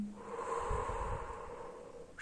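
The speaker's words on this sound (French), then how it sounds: "J'inspire." A person takes a slow, audible in-breath during a guided relaxation (sophrology) exercise, a single steady inhale close to the microphone, soft and airy with no talking over it.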